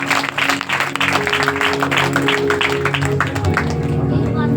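Audience applause at a church greeting gathering in a Baptist prayer hall, steady dense clapping throughout with a host's voice and musical tones running underneath.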